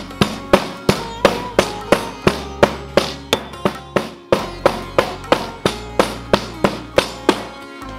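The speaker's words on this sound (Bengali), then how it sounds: "তারপর একসাথে মিহি করে বেটে নিন বেশ কয়েকটি উপকরণ" Cardamom pods, cloves and cinnamon being pounded together into a fine paste, about two dozen sharp, evenly spaced strikes at a brisk steady rhythm, loud and close with no voices.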